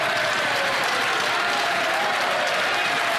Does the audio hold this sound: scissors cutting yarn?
no